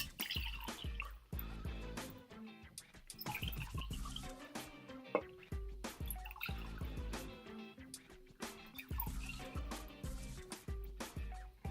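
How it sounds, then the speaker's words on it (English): Liquid is poured off a settled yeast slurry into jars, giving a close series of irregular drips, splashes and trickles with glassy clinks, fairly quiet with no talk. "get ready to pour off this liquid."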